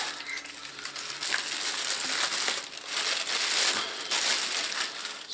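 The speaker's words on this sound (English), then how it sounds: "Just unwrap it" Crinkly plastic packaging rustles and crumples up close as a Skywatcher Evostar 72ED refracting telescope is unwrapped, in bursts of brittle crackling with no talk.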